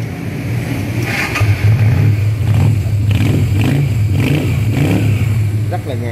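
A 170cc motorcycle engine fires up and revs in short bursts, its low throbbing idle rising and falling up close, with someone talking over it.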